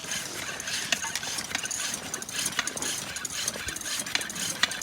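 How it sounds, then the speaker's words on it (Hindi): Pump inflating a punctured motorcycle tire, a rhythmic mechanical clicking and ratcheting with repeated bursts and hiss, moderately quiet and continuous. "मोहल्ले के एक नेक आदमी ने बोला पंप से हवा भर के चेक करें"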